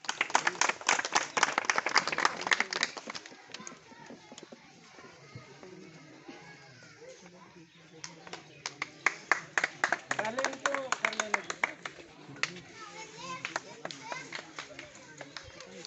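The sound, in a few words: audience applause welcoming a speaker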